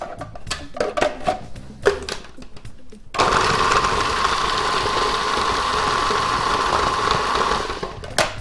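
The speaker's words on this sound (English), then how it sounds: "put it into your food processor" A food processor whirs loudly and continuously for about five seconds as it chops cauliflower into rice, after a few seconds of clattering and knocks at the start.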